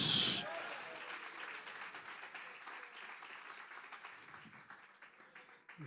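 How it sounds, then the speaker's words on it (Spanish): A church congregation applauds during a Spanish-language sermon on prayer, steady crowd clapping that fills the space and slowly tapers off, with a voice heard faintly under it. "Denle ese aplauso, diga gloria a Dios."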